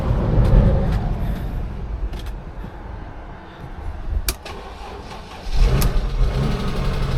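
Car engine cranking, sputtering and then catching, a car bought at auction on the last attempt. Uneven bursts of engine noise come with a few sharp clicks, and it settles into a louder running rumble near the end.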